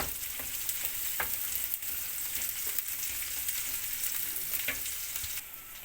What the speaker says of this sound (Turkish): 1-2 dakikada bu şekilde biberimizi kavuracağız.